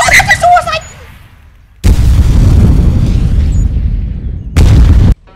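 A suicide bomber blows up in a Roblox war game: a long, loud roaring blast followed by a second shorter burst, both close and heavy, after a brief raised voice.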